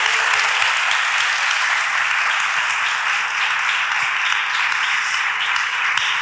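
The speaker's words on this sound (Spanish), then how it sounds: "Público, le damos un aplauso a vuestros colegas." An audience at an event in Málaga applauds colleagues, a dense, steady wash of clapping holding evenly loud for about six seconds with no voices breaking through.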